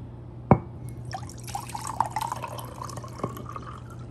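Cold water splashes and pours onto a black color-changing sublimation coffee mug, opening with a sharp splash and then a trickling, dripping flow that continues steadily close by.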